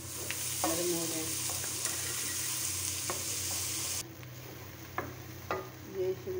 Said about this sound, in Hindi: उसके बाद हमने डाली है शिमला मिर्चें। अब 2 मिनट के लिए इसको भी इस तरह लाइट सा करेंगे, थोड़ा नरम हो जाए।